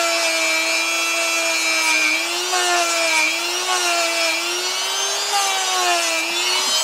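A handheld rotary tool cleans a metal cam at a workbench during reassembly of a seized 15-91, giving a steady, loud, high whine close by that wavers slightly in pitch as it bears on the part, with no talking.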